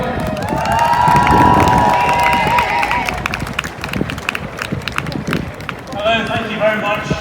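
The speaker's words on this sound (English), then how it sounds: "Everybody, round of applause for Robert Cohen." A crowd at an outdoor pro-Palestinian protest in Leeds claps and cheers loudly, with whoops and voices rising through the applause before it settles into scattered clapping.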